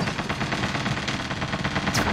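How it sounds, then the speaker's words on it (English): Rapid automatic gunfire in a video game, a dense unbroken burst of loud close shots lasting about two seconds. "Or just keep shooting, keep shooting, keep shooting."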